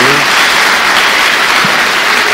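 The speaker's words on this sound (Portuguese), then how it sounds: "Uma salva de palmas a Jesus." A church congregation claps loudly and continuously, a dense, close wash of hands filling the room, with a brief voice at the very start.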